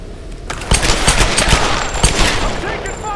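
Rapid bursts of automatic gunfire in the Tomb Raider (2013) video game, a dense, loud volley of overlapping shots with sharp cracks and sustained rattling over a noisy combat backdrop.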